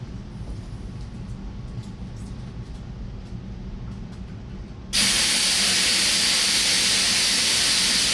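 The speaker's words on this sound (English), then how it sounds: "You're going to hear the air leaking out." Air hissing out of a 22-inch Nitto tire on a Harbor Freight tire changer, a low muffled leak that suddenly turns into a loud, steady, close rush of escaping air, with no talk.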